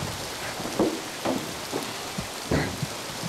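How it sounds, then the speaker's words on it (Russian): Steady rain pours during a thunderstorm on a river, a dense wash of hiss with a few low rumbling swells that may be thunder, no voices. "Может быть, дождь сейчас закончится."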